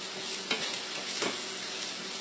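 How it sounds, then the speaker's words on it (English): Vegetables tossed in a hot pan for chicken and rice soup, a soft continuous sizzle with two brief scraping stir sounds, close and fairly quiet, no talk. "I'm just going to toss my vegetables here, just to make sure that I cook out all that flour taste."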